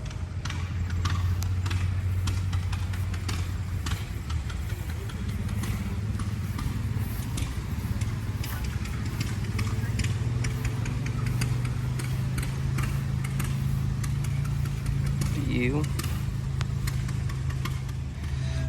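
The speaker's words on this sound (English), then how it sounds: "Really nice tractor." A vintage tractor engine runs at a threshing show at Prairie Village in Madison, South Dakota, a steady low rumble with a ticking beat, held continuously for the whole stretch amid outdoor background noise.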